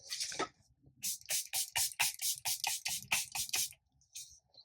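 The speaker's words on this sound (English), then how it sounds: "I'm going to spray my face one more time here." A face mist spray bottle mists about ten times in quick succession, short crisp hissing bursts close by, with a brief breathy sound before.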